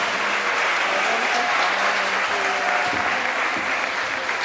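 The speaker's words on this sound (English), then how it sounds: "can we give a round of applause to our panelists?" A high school audience at a United Nations Day event applauds its panelists with a thick, continuous roar of clapping that holds level throughout, with faint voices mixed underneath.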